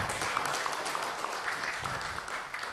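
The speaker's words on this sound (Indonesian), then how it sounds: "Itu tepuk tanganlah buat PPK." Applause for the PPK election officials at a regional head inauguration in Rokan Hilir, a steady wash of clapping from an assembled audience lasting a few seconds without pause.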